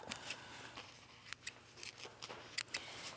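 Scissors trim fabric after sewing a steampunk accessory, making a series of quiet, sharp snips at an uneven pace over a faint background hiss.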